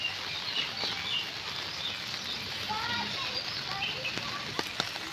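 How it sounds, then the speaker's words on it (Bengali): Steady rain falls over an empty cowshed yard in Mayapur, a soft continuous patter filling the whole stretch, with a few faint bird chirps scattered on top. "বৃষ্টি পড়ছে"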